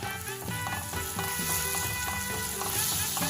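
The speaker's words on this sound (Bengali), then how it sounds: "খুব ভালো করে এটা ফ্রাই করে নেব।" Ginger-garlic paste with turmeric and chili powder fries in oil for a katla fish korma, giving a dense, continuous close-up sizzle with faint stirring scrapes mixed in.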